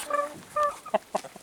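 Backyard chickens clucking in their coop, a few short separate calls and chirps, close and moderately quiet, with no one talking.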